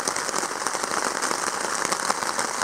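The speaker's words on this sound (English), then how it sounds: "We get a couple hours of no rain. By the time you get used to it, it starts raining." Steady rain falls during a Boundary Waters canoe camping trip, a dense, even patter of drops hitting surfaces close by, continuous throughout with no voices.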